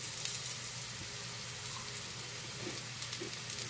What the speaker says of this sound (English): I have coconut oil in this frying pan.